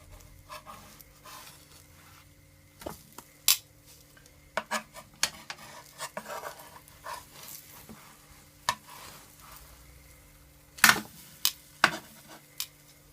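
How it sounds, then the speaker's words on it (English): Peach French toast fries gently in butter in a pan on low heat, a quiet sizzle broken by scattered sharp scrapes and clicks as the slices are turned. "So now I'm gonna turn my French toast."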